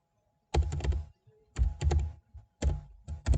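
A computer keyboard typed up close in three quick bursts of clattering key clicks with short pauses between, with Enter pressed, and no talking.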